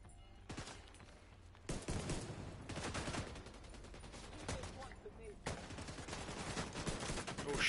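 Gunfire bursts in The Division 2 video game, with rapid volleys starting and stopping in several loud stretches, mixed with game noise and players talking.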